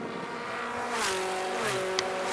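Formula Ford 1600 race cars scream past at Kirkistown circuit, engines droning at high revs with a pitch that drops as they pass, layered and loud, a faint squeal near the end.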